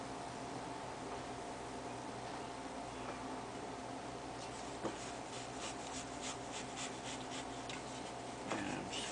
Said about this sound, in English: And squeegee it back down.